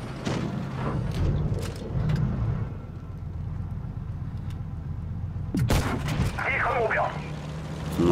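Tank cannon fire in the mobile game World of Tanks Blitz, with a WZ-112-2 tank in battle: loud booming shots and sharp cracks over a steady engine rumble, heard while a commentator talks.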